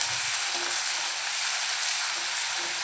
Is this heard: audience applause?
no